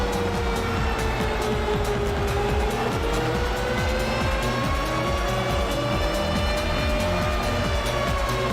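NASCAR race car doing a burnout down the start-finish line at Richmond Raceway in the rain, a loud rising engine wail with pulsing exhaust roar and rasping tire noise, continuous and close.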